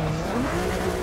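A race car in Forza Motosport 6 spins out, its tires squealing in a sustained, loud screech over the engine's drone, with no talking.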